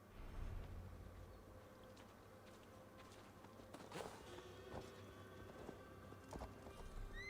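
A horse's hooves clip-clop at a walk through a forest in Gloucestershire in Assassin's Creed Valhalla, quiet and steady, with faint ambient forest sounds around them.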